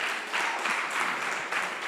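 An audience claps together at a community dialogue event, a steady wash of applause that swells slightly and holds for a couple of seconds.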